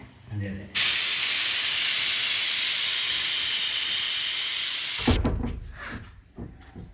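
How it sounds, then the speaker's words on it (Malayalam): A pressure cooker with beef inside lets out a loud, steady jet of hissing steam for about four seconds, then stops abruptly, followed by quieter kitchen clatter. "നമ്മുടെ കപ്പ ഇവിടെ തിളച്ചുകൊണ്ടിരിക്കുന്നു ബീഫ് ഇവിടെ കുക്കറിലാണ്"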